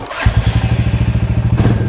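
A Royal Enfield Bullet single-cylinder motorcycle engine thumps loudly and steadily at a fast idle, its even pulsing beat close by with no talking.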